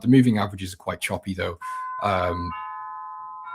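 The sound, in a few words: doorbell ringing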